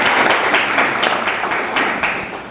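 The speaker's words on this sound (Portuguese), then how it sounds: "Gente, vamos dar uma salva de palmas para o Paulo." Audience at a motivational talk for mothers claps for Paulo, a loud, close, dense burst of applause with a few sharper slaps standing out, tapering slightly toward the end.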